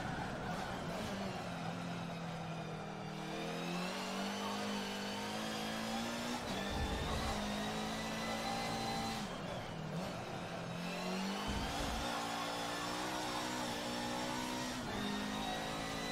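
A race car engine held at full power in a racing video game, a continuous high revving drone that climbs and dips in pitch through gear changes with brief tire noise, no voices.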